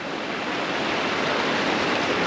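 Filtered water flowing into a trout hatchery, a loud, continuous rushing and splashing wash that stays even from start to finish, with no speech.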